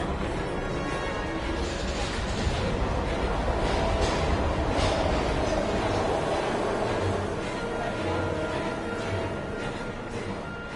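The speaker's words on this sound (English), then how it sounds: "We've got to get on that train, Ethan." A train in a PS4 video game rumbles steadily, a dense continuous roar of rail noise with clattering texture, loud and unbroken, with no talk over it.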